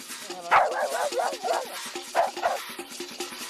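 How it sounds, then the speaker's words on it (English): A dog kept as a crocodile alarm barks in short bursts out in the bush by a reef, with yips and whimpery barks close by and a steady low hum beneath. "This is my crocodile alarm dog."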